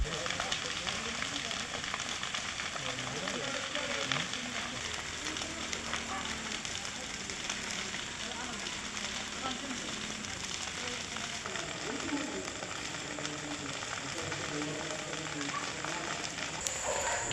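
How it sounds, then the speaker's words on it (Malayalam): Grass fire burns on the hilltop of Kottakunnu in Cherpulassery, giving off a faint, continuous crackle and sizzle, like distant frying, throughout. "കുന്നിൻ മുകളിലെ പുൽക്കാടുകൾക്കാണ് തീപിടിച്ചത്."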